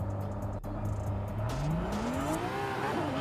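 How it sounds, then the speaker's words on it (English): A Nissan 350Z with a 2JZ engine swap, drag-tuned in Forza Horizon 5, launches from inside the cabin, its engine note rising steadily in pitch as it pulls hard, loud and close throughout. "But here's how it sounds inside and kind of a launch."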